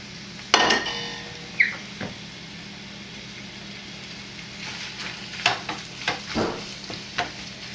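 Toasted cumin peppers drop into a pan of browning lamb for a tagine, giving a steady low sizzle with sharp clinks and scrapes of stirring scattered throughout, close and moderately loud.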